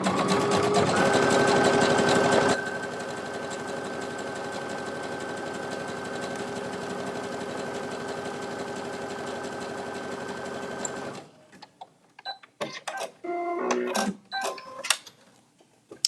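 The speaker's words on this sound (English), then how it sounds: "Zigzag the other side now." A sewing machine zigzag stitching along a fabric edge runs as a steady rapid whirring hum for about eleven seconds, slightly quieter after the first few, then stops, followed by faint handling clicks and rustling.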